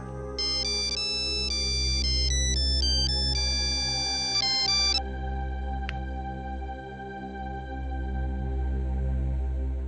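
A phone ringtone plays a bright repeating melody for several seconds during an outgoing call, then stops, leaving a steady electronic hum.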